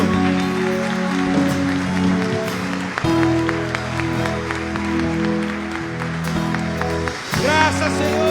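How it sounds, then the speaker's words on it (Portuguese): Worshippers at a family church service clap continuously over sustained keyboard chords, a thick, steady patter of hands blending with the music, with a voice briefly rising near the end. "aplauda Ele mais uma vez, Ele é digno."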